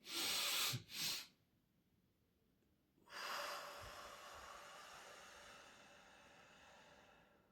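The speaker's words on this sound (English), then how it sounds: "Notice you have to breathe out slowly, a little bit slower than you breathe in." Slow relaxation breathing, a short breath followed by a long, steady hissing exhale, close and quiet, with no talking.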